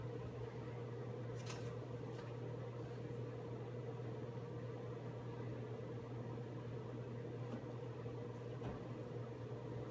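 A microwave oven runs with a steady, even hum droning throughout with no breaks, close by, with a couple of faint clicks in the background.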